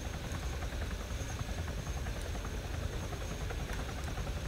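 A helicopter in the video game Arma 3 drones steadily with a dense, continuous rotor and engine roar throughout, loud and close with no pauses.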